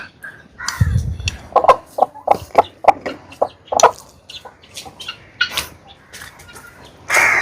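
Hens cluck in a quick run of short, sharp calls, close and fairly loud, with a few louder squawks near the start and end; no one speaks.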